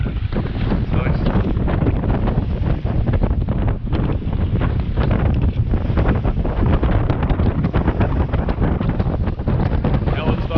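Wind blowing around 20 to 22 knots on a sailboat under headsail, a loud continuous roar buffeting the microphone from start to finish with no clear speech.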